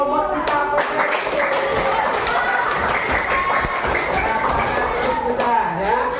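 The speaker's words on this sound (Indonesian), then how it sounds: "Oke, lagi tepuk tangan buat robot kita." A sixth-grade class claps for the winning robot in a coding lesson. The clapping is brisk and uneven, mixed with children's voices and chatter throughout.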